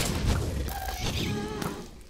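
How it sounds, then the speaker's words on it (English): Muffled explosions in the game Cubic Horrors: The Fire Beneath, low thudding booms and rumbles rolling under a dense, noisy background, with a couple of sharper impacts over about two seconds. "oh, I hear the explosions"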